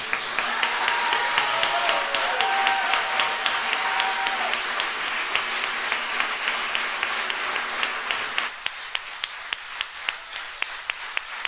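Sustained applause from a concert audience at a solo show, dense steady clapping filling the hall, then thinning to sharper, more separate claps near the end.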